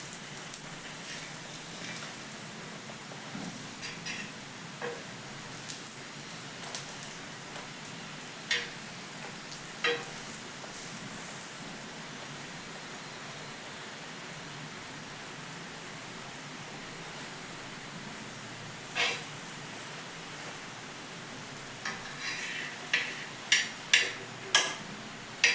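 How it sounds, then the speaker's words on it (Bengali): Food frying in a little oil on a tawa griddle, a soft continuous sizzle with scattered crackles and pops that grow busier toward the end, fairly quiet and steady with no voices. "আর তাওয়াতে ভাজলে অল্প তেলেই হয়ে যায়।"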